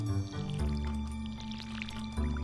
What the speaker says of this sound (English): We gotta water it now.